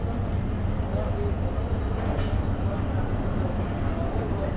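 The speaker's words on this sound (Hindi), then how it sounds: "सो डिपार्चर कर रही है चमन पैसेंजर कोयटा रेलवे स्टेशन को।" A Chaman Passenger train leaves Quetta railway station in Balochistan, a continuous low rumble of rolling wagons heard from on board, steady and fairly loud throughout.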